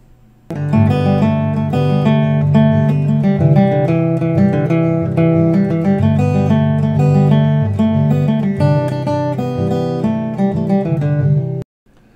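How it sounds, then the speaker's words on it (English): Solo acoustic guitar plays the breakdown section of a song. After a brief quiet start, dense strummed and plucked notes ring on steadily and closely, then stop sharply just before the end. "I've also tabbed out the breakdown section of the song that sounds like this"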